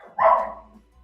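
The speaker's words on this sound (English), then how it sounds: "Nothing like an internet video with barking doggies." A small dog gives a single short, sharp bark close to the microphone that cuts off quickly, followed by quiet room tone.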